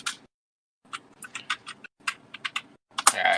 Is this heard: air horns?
no